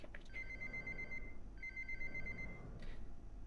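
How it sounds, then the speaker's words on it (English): A telephone rings inside a facility in the video game Abiotic Factor, two long electronic trilling rings in a row, clear and fairly close, with no talk over them. "the ringing, the phone ringing that I hear all the time in this game"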